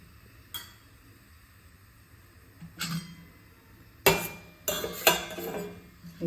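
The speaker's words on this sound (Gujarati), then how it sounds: "આપણે ગેસ ઉપર એક તપેલી મૂકી દીધી છે અને તેમાં થોડું ઘી ઉમેરીશું" A metal pot is set down on a gas stove and ghee is spooned in, giving a few sharp metallic clanks and clinks, louder toward the end, with no talk.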